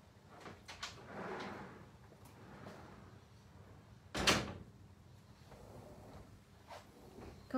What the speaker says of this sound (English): Gosh, leaving that door open, Louise, was cold.